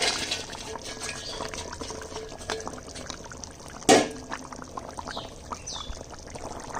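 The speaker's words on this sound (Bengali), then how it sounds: "ঝোলটা ফুটে গেছে, আর আলু বেগুন দিয়ে যেহেতু ঝোল, তার মধ্যে ডালের বড়ি, ঝোলটা টেনে যাবে। ডালের বড়িটা দিয়ে দিচ্ছি।" Lentil dumplings drop into a simmering potato and aubergine curry, a single splash standing out from a low, steady bubbling under faint kitchen clatter.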